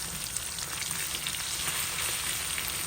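Food sizzles and fries in a pan just after being flipped, a steady close crackling hiss with small pops and no talking.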